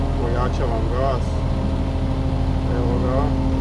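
An excavator engine revs as it drags a cable wound on a drum while drilling a hole underground for a sewer connection. The steady mid-pitched drone holds throughout beneath a voice.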